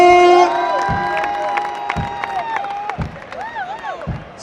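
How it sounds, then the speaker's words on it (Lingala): A crowd greets the President of the Democratic Republic of the Congo, Félix Tshisekedi, with cheering, whoops and shouts over steady applause. The noise is loud and lively and continues the whole time, with music-like tones standing out near the start. "Félix Antoine Tshisekedi Tshilombo, sous vos applaudissements."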